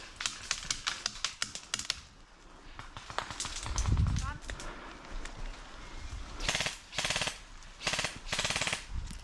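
Airsoft guns firing in an outdoor field game, bursts of sharp rapid clicking shots at the start and again near the end, with a muffled thump and scuffling in between.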